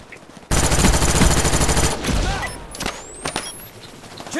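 Rapid automatic FAMAS rifle fire in the shooter game Call of Duty: Black Ops, a loud sustained burst followed by scattered shots and game effects.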